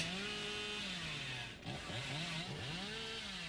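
A chainsaw revs continuously in the Dead by Daylight-style horror video game, a steady buzzing engine drone with pitch sweeps rising and falling throughout, loud and up close with no talking.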